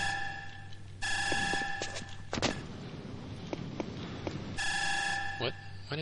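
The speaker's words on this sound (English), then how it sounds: "What is that alarm?" An alarm blares in the Jedi Knight video game as two bursts of a steady buzzing tone, with footsteps, clanks and sharp hits from the game mixed in between.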